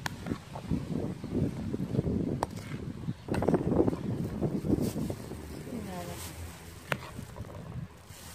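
Outdoor wind rumbles and buffets the microphone in a steady low roar during kitchen work preparing okra for the freezer, with someone talking over it throughout.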